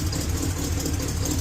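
A Chevrolet El Camino idles while being driven slowly into a garage, giving a loud, low, steady rumble heard up close, with no voices.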